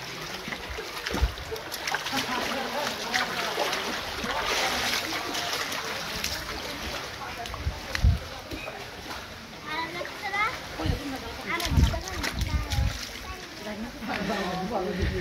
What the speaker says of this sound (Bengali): এই ঝর্ণাটাই হচ্ছে হিমছড়ি পাহাড়ের ঝর্ণাটা